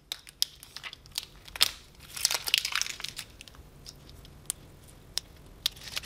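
Cut adhesive vinyl decal material being weeded by hand, giving faint crinkling and peeling with sharp little ticks and a longer crackling stretch in the middle, close and quiet, with no talking.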